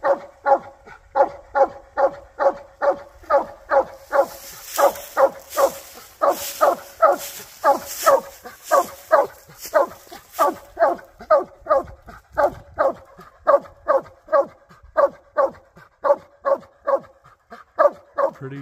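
A tree dog barks steadily and rapidly at quarry up a tree, dozens of sharp, evenly spaced barks, loud and close, with no break throughout.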